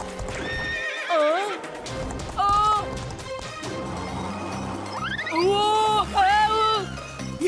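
A cartoon horse gallops with loud clip-clop hoofbeats and lets out several shrill, wavering neighs and whinnies, set against a busy background score.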